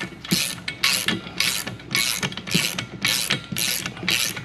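A ratchet wrench tightening a hub bar bolt on a gyrocopter rotorhead, giving about seven loud, evenly spaced bursts of rapid clicking, close by and with no talk.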